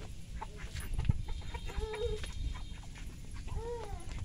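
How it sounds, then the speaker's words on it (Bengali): Chickens cluck at a backyard duck and chicken coop, a few short clucks and calls rising over a steady rustling ambience, fairly close. "এই ঘরটা হচ্ছে হাঁস মুরগিদের ঘর।"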